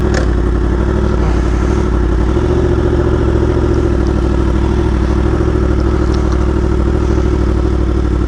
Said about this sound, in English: I feel like I'm gonna stall the bike. It's been so long.